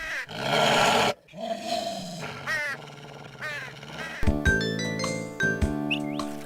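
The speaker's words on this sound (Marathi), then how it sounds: "शेरूला खूप राग येतो तो कावळ्याला पाहून त्याच्या अंगावर भुंकायला लागतो" A cartoon dog growls and barks in short bursts, with crow-like caws and a sudden musical sting.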